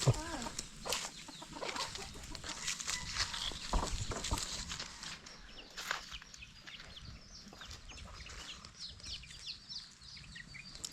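Chickens cluck and chatter close by amid rustling and footsteps, with a person talking intermittently over the birds.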